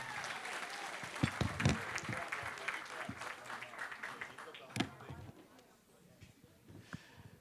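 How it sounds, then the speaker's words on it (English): Wedding guests applaud the bride during the reception speeches, a dense, steady round of clapping with a few sharp louder claps near the start and middle that tapers off toward the end, with some voices mixed in. "Give her a big round of applause."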